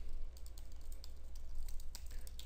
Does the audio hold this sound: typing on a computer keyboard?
yes